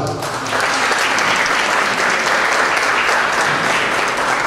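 Loud, steady applause from a crowd at a municipal closing ceremony for an international cooking workshop in Zacatecoluca, sustained throughout with a faint voice briefly underneath.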